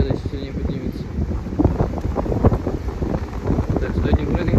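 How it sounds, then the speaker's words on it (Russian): A strong wind buffets the microphone in a continuous loud roar, apparently near open water, with a voice talking underneath it. "Смотри, ветер сильный, поэтому не жди, когда сильнее поднимется."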